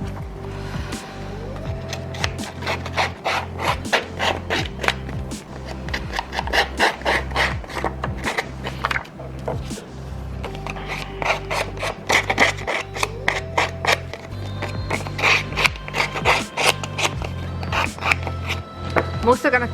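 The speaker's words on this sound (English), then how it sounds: "I'm just going to distress some of the edges of these pieces I've just cut out" Paper scrap edges are distressed by hand for a steampunk safari scrapbook layout, with quick rhythmic rasping scrapes repeating close by throughout.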